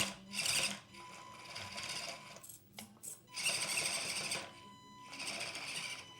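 Axial SCX24 RC crawler's small electric motor whining in several strained bursts under throttle, a high buzzy drone rising and falling with brief pauses, close and fairly quiet.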